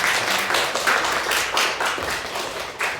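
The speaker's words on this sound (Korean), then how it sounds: "우리 주님께 영광의 박수 올려드리겠습니다" A church congregation applauds during a Sunday worship service, with many hands clapping together in a dense, sustained round. A rhythmic pulse runs through the clapping, and no voices stand out.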